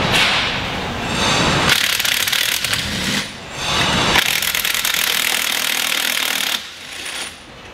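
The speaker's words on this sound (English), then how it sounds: "I'm just gonna go ahead and pop these up with an impact." An impact wrench rattles loose the engine and transmission bolts on a Polaris RZR during a motor plate upgrade, firing three long, loud hammering bursts separated by brief pauses, with no talking.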